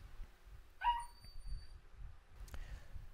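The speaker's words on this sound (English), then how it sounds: "Yeah, she's a puppy and she's really difficult to handle sometimes." A young puppy gives one short, whiny yelp, close but fairly soft, over a low indoor rumble. No other clear sounds follow.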